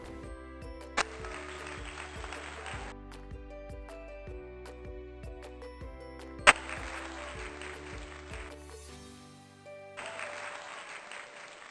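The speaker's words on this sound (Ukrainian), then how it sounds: "Плескайте в долоньки, якщо так." Young children clap their hands along with a kindergarten activity about winter games. The short bursts of clapping are spread over a soft tune playing in the background.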